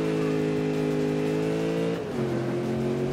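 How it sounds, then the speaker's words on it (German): Racing car engine in the video game Need for Speed (2015), a steady loud drone with strong harmonics that dips and shifts pitch briefly midway as if changing gear, then settles back into a sustained roar. "Der Motor gefällt mir vom Sound allerdings nicht so ganz so gut."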